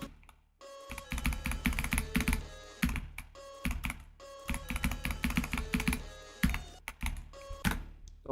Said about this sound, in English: I'm adjusting my keyboard so my hand is mathematically optimized